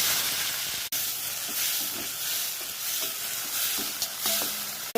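Onions fry with fenugreek seeds in hot oil, a steady close hiss and sizzle with a few faint clicks of a spoon against the pan.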